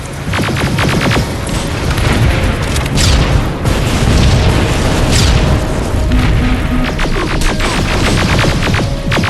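Booming rocket explosions rumble through a Terminator: Resistance battle, loud and dense, with sharp bursts and crackling debris stacking into a near-continuous roar over the whole stretch.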